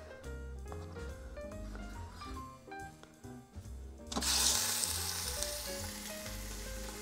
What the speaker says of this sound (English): We're just going to want to brown it up a little bit